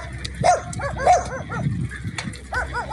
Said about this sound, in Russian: Смотрите, вот одни собаки бегают.